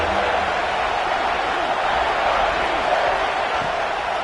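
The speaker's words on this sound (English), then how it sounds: "3rd down and the crowd really getting into it" Stadium crowd at an American college football game with NC State, roaring steadily on a third down, a dense, continuous wash of cheering with no breaks, loud and filling the whole moment.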